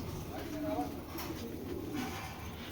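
A Giribaz pigeon coos softly at close range in a few low, burbling phrases, with someone talking over the calls.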